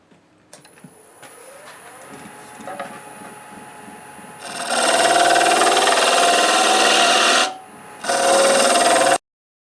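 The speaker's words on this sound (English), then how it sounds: "I'll go to my negative rake scraper and try to clean this up" A wood lathe turns a staghorn sumac bowl against a freshly sharpened negative rake scraper at about 1160 rpm. A low motor hum gives way to loud, harsh scraping bursts, broken by a short pause.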